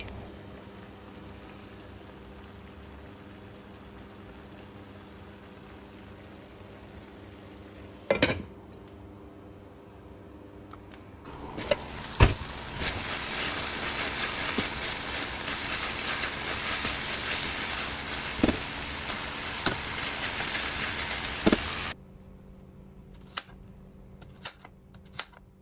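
Liver fries in a covered pan, a soft steady sizzle that jumps louder when the lid comes off, with a few sharp clanks of lid and utensil, then quiets down at the end.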